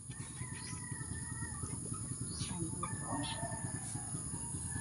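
Chickens and a rooster at a home yard, soft clucking and a faint distant crow over steady background noise, with people talking quietly nearby.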